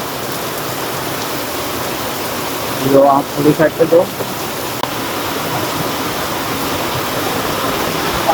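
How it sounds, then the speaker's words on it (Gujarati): Heavy rain pours down in a steady, close hiss that never lets up, while someone speaks briefly partway through. "ફૂલ વરસાદ થઈ ગયો."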